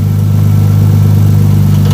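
A Nissan R32 Skyline with a suspected ground wire fault idles steadily up close, a loud, even low rumble that holds without revving throughout.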